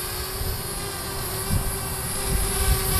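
A Parrot Bebop drone runs its motors after a battery swap, using an original Parrot AR.Drone 2 battery. The motors give a steady, close whir and hum with a constant buzzing tone, and no one talks over it.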